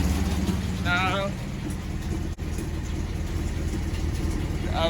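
The engine of an old Volkswagen Beetle idles at about 1000 RPM with a steady low rumble, close by, while a voice talks over it at points.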